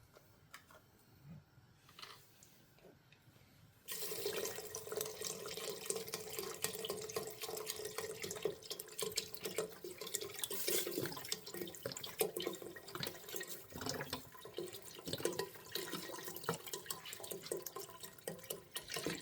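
Water running from a tap into a chicken broth container, starting after a few quiet seconds as a steady, close splashing stream that continues unbroken.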